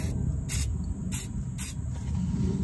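PB Blaster penetrating lubricant sprayed onto the exhaust bolts of a Jeep Liberty, four short hissing bursts spaced about half a second apart over a steady low rumble in the background.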